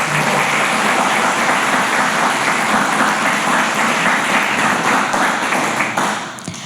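Audience clapping at a Jashan e Shahi celebration, a dense, steady wash of many hands filling the room, loud and continuous before tapering off at the very end.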